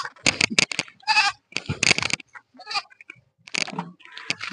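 Goat bleats in quick bursts at close range, loud and wavering, broken by short pauses and rustling thumps amid a hurried scene where goats are being stolen.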